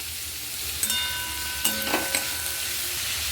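Garlic, onion and capsicum frying in a pan with salt and pepper, a steady soft sizzle with a few brief louder crackles and stirring clinks, heard alone at close range.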